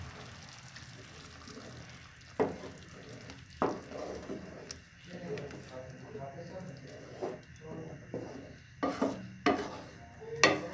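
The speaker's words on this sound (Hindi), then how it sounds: "अब हम इसे अच्छे तरीके से मिक्स कर लेते हैं।" Daal and eggs are mixed on a hot tawa, with a spatula scraping and clanking against the metal over a soft sizzle, the strokes growing louder toward the end, while a voice is faintly present.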